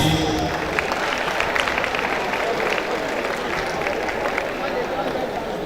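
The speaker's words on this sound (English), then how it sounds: "Please let's clap for him" Large audience applauding in a hall at a valedictory ceremony honouring a professor, steady dense clapping and crowd noise sustained throughout, fairly loud and continuous.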